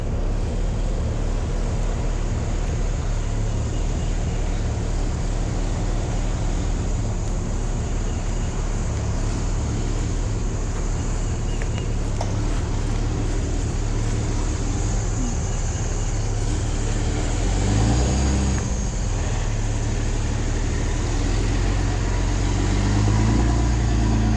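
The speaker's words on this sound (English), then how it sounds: "Spinning all 6 tires." A stuck six-wheeled machine on aggressive, grippy tires revs its engine hard while all six tires spin, a loud, steady droning roar that swells slightly toward the end.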